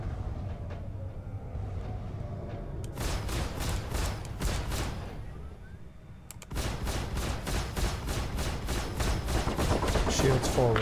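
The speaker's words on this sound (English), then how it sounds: "Shields forward. Taking fire." Rapid gunfire from ships in a Star Citizen space dogfight, bursts of fast repeated shots that stop briefly midway and then resume harder, mixed with engine rumble and other game sounds.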